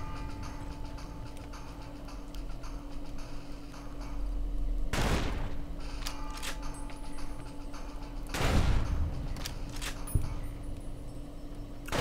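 Exploding bullets and gunfire in Fallout: New Vegas burst out as two loud, broad blasts about three seconds apart, over a steady droning game background with faint ticking.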